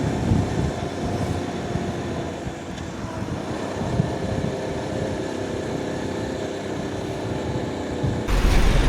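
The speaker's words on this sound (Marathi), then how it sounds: "ट्रेन चालली बघा इथे साईडला." Train running on a rail line right beside a road, a steady continuous rumble and rolling noise heard close by for the whole stretch, swelling slightly louder at the end.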